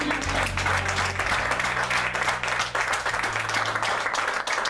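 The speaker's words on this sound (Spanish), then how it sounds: "Un aplauso al Señor." A congregation claps steadily and loudly for several seconds in a reverberant church tabernacle, with a low hum underneath.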